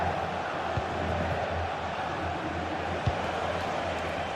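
Steady stadium crowd roar fills a football video game match, a constant broad wash of distant voices with a couple of brief thumps, no commentary over it.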